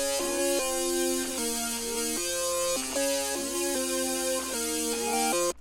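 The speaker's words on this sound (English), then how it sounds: "So first what I started with was this synth out of Serum." Twilight synth patch from the Serum Antidote bank plays a simple pattern of power chords, bright buzzy sustained chords changing every bar or so, heard alone at steady volume.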